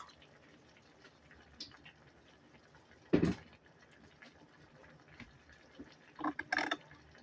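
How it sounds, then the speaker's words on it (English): Water is added to a pot of Mexican rice with green chilies, a soft splash and pour standing out briefly over quiet kitchen background, followed by a few more gentle bursts of liquid near the end. "I'm adding a bit more water to the rice."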